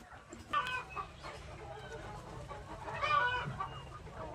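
Free-range desi chickens cluck at a farm being fed black soldier fly larvae, with several soft, irregular clucks and calls at moderate distance over low background noise.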